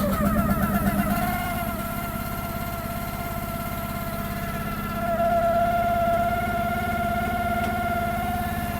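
A small engine on a Chinese-made machine runs in cold, snowy weather, starting with an uneven choppy note before settling into a steady mid-pitched idle that rises slightly toward the end; close and alone, with no talk.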